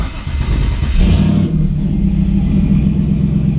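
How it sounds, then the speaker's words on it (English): A car engine revs hard and then settles into a loud, steady mid-range drone, heard up close during a transmission shift test after a repair, with no voices. "Next, we'll see if it shifts for real."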